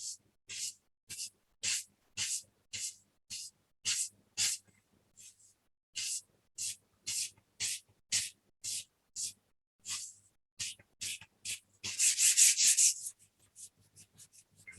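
Pastel stick rubbed across paper while colour is filled in on a cowboy drawing, a steady series of about two dozen short, close scratchy strokes, ending in a denser burst of rapid rubbing.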